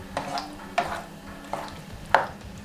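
Green bean casserole mixture being stirred in a dish, giving four separate soft scraping sweeps at an uneven pace, close and fairly quiet, with a low kitchen hum beneath.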